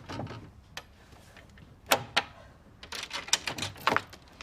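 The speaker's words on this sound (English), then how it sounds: "I'm sorry to knock so loud" Loud knocking on a door indoors, a few sharp raps with gaps between them, then a quicker cluster of hard knocks, all heard alone without speech.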